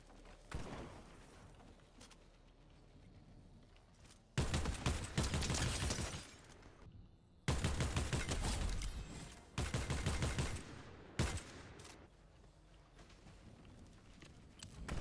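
Bursts of gunfire in Fortnite come in several loud, rapid volleys of a second or two each, separated by quieter gaps of game ambience.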